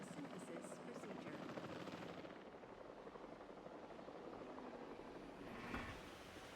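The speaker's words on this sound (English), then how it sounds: "Oh, there's the helicopter." A helicopter in a video game drones steadily at low volume throughout, a continuous whirring rotor hum that sits faintly in the background with no clear talk over it.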